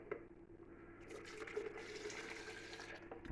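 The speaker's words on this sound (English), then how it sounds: "let's pour it into a jug" Whey liquid poured into a jug, a steady gurgling trickle of flowing liquid that holds fairly even and close for a few seconds, quiet and without talk.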